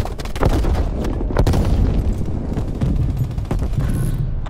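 A dense Call of Duty Cold War battle, with a frag grenade blast and continuous gunfire forming a loud, rumbling wall of booms and rapid shots that runs without a break.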